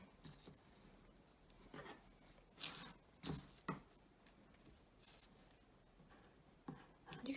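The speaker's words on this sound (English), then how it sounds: "So I'm just going to cut halfway down there." Scissors snip through a paper fashion-illustration template in several quiet, irregular cuts with soft rustling of the paper between them, close by, with no talk.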